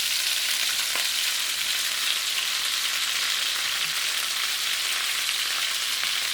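Ginger and potato frying in a pan for curry chicken wings, a dense steady sizzle that holds close and even the whole way through, with no talk.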